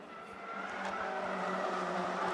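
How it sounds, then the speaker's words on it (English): Ginetta Junior race cars sliding through Old Hall Corner at Oulton Park during a championship race, a steady loud engine roar from several cars building slightly, with a hint of tyre scrub and no voices. "Slide through Old Hall Corner there, meanwhile, is Riley Cranham to the outside"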